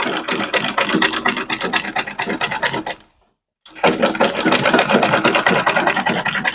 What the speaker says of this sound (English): So I'll just go ahead now to sew.